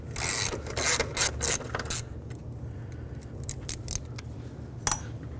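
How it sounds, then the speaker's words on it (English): Ratchet wrench clicking as it backs out a 12mm bolt on the engine of a 2003-2009 Toyota 4Runner, with bursts of quick metallic ratcheting in the first two seconds, then sparser clicks close up, no talk. "There's a bolt right here, 12mm. Remove that."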